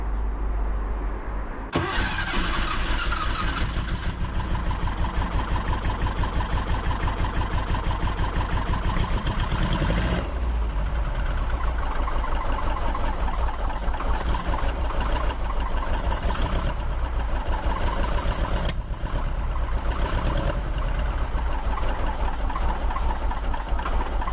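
A Porsche 914 engine with dual Weber carburetors runs steadily at idle, a constant low rumble with a slight change in tone partway through, no voices.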